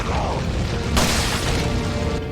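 Grenade blast in the video game Resident Evil 4 Separate Ways, a loud booming explosion bursting suddenly over a dense background of game noise, with a rumbling tail.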